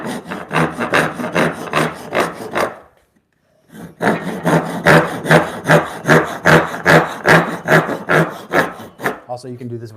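Hand sawing of wood with a razor saw during dovetail work: steady, rhythmic push-pull strokes close up, a brief pause, then a longer run of even strokes, with no talk.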